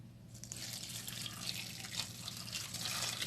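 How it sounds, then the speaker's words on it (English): Hot water pouring into a pot of meat and kidney being prepared for pepper soup, a steady close splashing gush that builds slightly in intensity, with no talking. "I'm going to pour hot water and take it to my gas to parboil"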